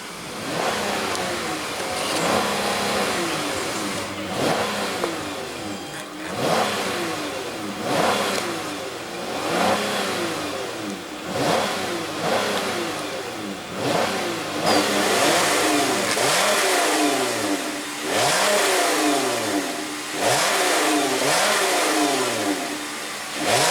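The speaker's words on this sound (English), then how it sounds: "And let's go ahead and rev it up." A 2015 Chrysler Town and Country minivan's 3.6 L V6 engine is revved repeatedly, each loud rise swelling and falling back toward idle in a steady series.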